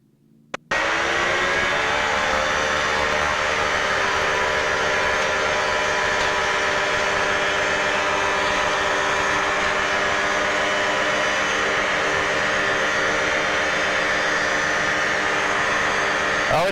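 A small airplane engine revs up sharply for takeoff and then roars steadily at high power throughout, loud and close with a droning buzz.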